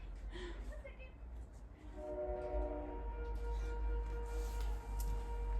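A passing train with a sustained horn sounding at a distance, tones held for a few seconds over low rumbling, with a voice speaking.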